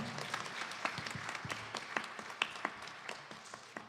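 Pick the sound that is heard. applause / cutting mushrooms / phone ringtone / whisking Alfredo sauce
applause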